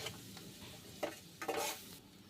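Onion frying with ginger-garlic paste and spices in a pan, stirred in a couple of brief scraping bursts over a soft sizzle.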